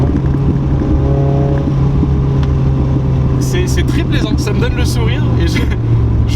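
Steady engine drone of a 1993 Toyota MR2 driving, heard from inside the cabin, a low continuous hum with a few brief clicks and rattles partway through.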